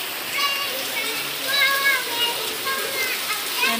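Heavy typhoon rain pouring down with wind, a constant hissing downpour with splashing and dripping close by, under occasional voices.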